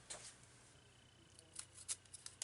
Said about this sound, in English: I'm actually going to use my scissors to open that with.